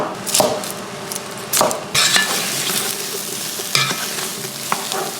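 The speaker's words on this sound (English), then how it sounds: "I'm gently sweating these vegetables" Vegetables, onions among them, sweat in a pan with a loud sizzle, broken by scraping and stirring strokes and an occasional clink of a utensil against the pan.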